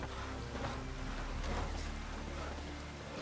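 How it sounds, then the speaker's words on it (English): Steady rain falls in The Witcher 3 video game, a continuous even hiss of drops on surfaces with a faint low rumble beneath, no voices present. "It's raining."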